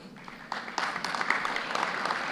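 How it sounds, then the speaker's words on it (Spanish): Audience applause at a business panel event on digital transformation, beginning softly and swelling into steady, dense clapping across a room. "Fuerte los aplausos."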